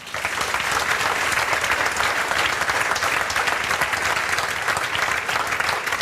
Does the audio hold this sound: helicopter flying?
no